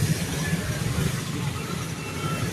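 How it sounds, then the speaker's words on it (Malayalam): Railway station ambience with a loud, constant wash of crowd and traffic noise filling the whole stretch, with no distinct train passing. "ഓക്കെ, റെയിൽവേ സ്റ്റേഷനിലെത്തി"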